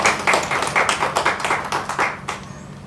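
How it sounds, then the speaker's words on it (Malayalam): A film crew claps together at a Malayalam movie audio launch, a steady burst of many hands lasting a few seconds, fairly close and fading toward the end, with no talk over it. "I want all of you to give that applause, ma'am."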